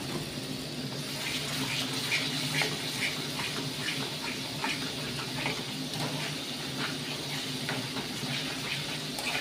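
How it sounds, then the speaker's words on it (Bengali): Water splashes into a pan of oily, spicy masala, then the mixture bubbles and sizzles steadily at a low level, with faint scraping throughout. "আবারও হালকা করে একটু জল দিয়ে দিলাম।"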